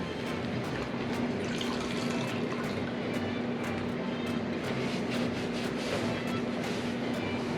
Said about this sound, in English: Now I'm going to take a rag, get it wet, rinse some of this off.